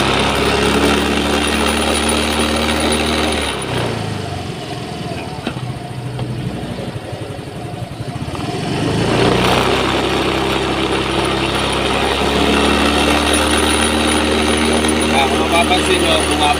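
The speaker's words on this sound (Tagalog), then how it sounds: "rev natin mga tropa." A Yamaha motorcycle engine idles steadily, then is revved up, its note rising and holding for several seconds before dropping back to idle, with someone talking over it throughout.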